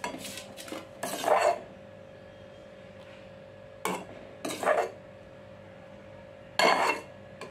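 Metal utensil scraping and clinking against a cooking pan while cooked chutney leaves are moved onto a plate, coming in three short, fairly quiet bursts separated by pauses.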